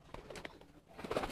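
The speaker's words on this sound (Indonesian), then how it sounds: "Ini merpati pos dilatih balap." A homing pigeon trained for racing gives soft cooing calls close by, with faint rustling and a low outdoor background.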